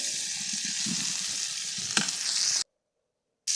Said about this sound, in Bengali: এরপর মাছ ভেজে নিচ্ছি